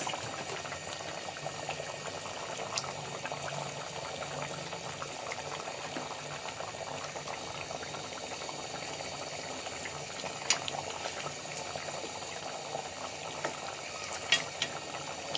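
Coconut and cucumber curry bubbles steadily in a pan as fish goes in, a continuous close simmering hiss with a few faint clinks and no voices.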